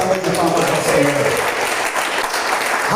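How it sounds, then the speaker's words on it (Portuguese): A church congregation applauds during a celebration service, steady sustained clapping from a crowd filling the room, with a voice speaking over it at the start. "Vamos dar uma salva de palmas ao Senhor."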